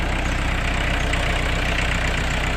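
A used 2018 Iseki NT554 tractor's diesel engine idles steadily at close range, a continuous even rumble with a fine rhythmic knock throughout and no voices.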